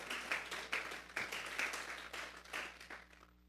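A congregation claps during a Sunday church service in a series of uneven bursts that fade toward the end, heard at moderate distance with no talking over it.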